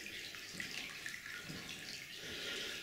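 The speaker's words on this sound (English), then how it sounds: "the water from the spring is still flowing in front of us" Spring water runs through an abandoned underground mine shaft roughly 2,500 feet down, a faint, steady trickling and splashing flow with no voices.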